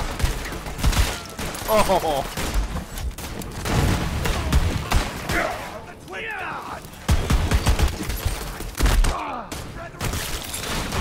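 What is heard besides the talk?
gunfire in video game Borderlands 3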